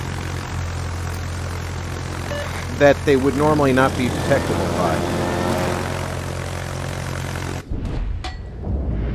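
Propeller aircraft in World of Warships drone on steadily under a voice, which drops out near the end as the hum continues.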